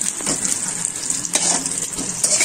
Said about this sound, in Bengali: দেখো ডিমটা ভালো মতন ভাজা হচ্ছে, হয়ে গেলে এটা নামিয়ে নেবো।